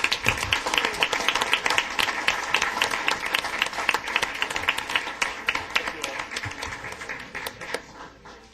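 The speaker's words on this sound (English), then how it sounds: "round of applause" A council meeting audience gives a round of applause. Scattered, distinct hand claps from a modest group start strong and gradually thin and taper off, with faint background voices.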